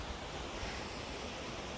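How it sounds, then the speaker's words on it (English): A waterfall on a mountain trail in Grand Teton National Park gives a steady, dense rushing roar that holds unchanged and fairly loud, with no voices over it. "We're at a waterfall."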